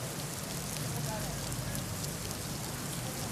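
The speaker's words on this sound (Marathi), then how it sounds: "या भागात देखील मोठा पाऊस झाला आणि सखल भागात पाणी साचलं होतं." Heavy rain in CBD Belapur pours as a dense, steady hiss with scattered drop spatters, close and continuous, and no clear voices over it.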